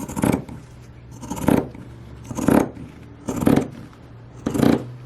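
Pinking shears chop through bunting fabric in five slow, evenly spaced cuts, each a crisp, close crunching snip with brief pauses between.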